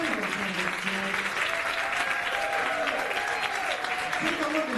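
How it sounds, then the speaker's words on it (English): Audience applause for political candidates at an evening event, a continuous roar of clapping with scattered cheers and a few voices calling out beneath, steady and fairly loud throughout. "And a big round of applause for all 10 representatives tonight."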